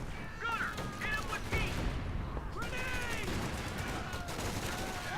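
Dense crackling gunfire fills the scene, M1919 machine gun bursts amid a busy World War II battle in Company of Heroes 2, with ongoing shots and faint whistling effects layered together and no clear talk.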